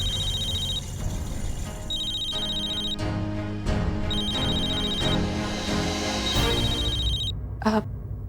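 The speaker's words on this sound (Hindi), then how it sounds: "Whose phone is that?" A mobile phone rings in a classroom with a repeating electronic ringtone in bursts that keep sounding over low room noise and background music, with a voice speaking briefly near the end.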